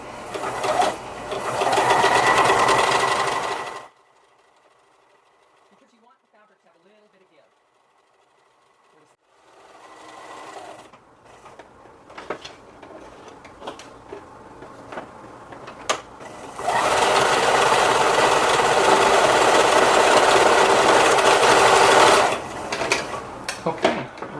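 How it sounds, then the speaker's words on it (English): A sewing machine running a stretch stitch around the hem of a T-shirt dress, in two loud sustained runs separated by a quieter stretch of fabric handling and clicks. "Now I'm going to use my stretch stitch, which is number 2 on mine, and I'm going to sew about a 1/2 inch up"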